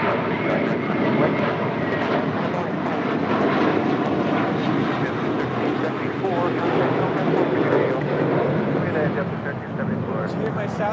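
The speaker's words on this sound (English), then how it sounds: "Runway 25 right, clear for takeoff." A fixed-wing airliner takes off from runway 25 right at LAX, its jet engine roaring loud and steady throughout, with people talking over it.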